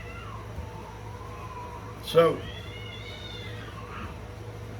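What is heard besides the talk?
cats fighting and meowing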